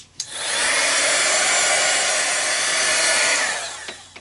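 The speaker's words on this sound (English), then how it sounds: "Would help if I turned my heat gun on." A heat gun blows on craft ink, switching on with a click into a steady close airy whoosh for about three seconds before powering down, followed by a faint click.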